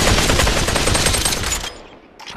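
Rapid automatic gunfire from the VR shooter Population: ONE rattles loud and near in a steady burst for about a second and a half, then cuts off into a brief quiet.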